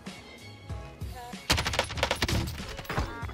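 Rapid bursts of automatic gunfire in Call of Duty Warzone crackle loud and close, quieter shots at first, then a dense volley of sharp repeated cracks in the second half.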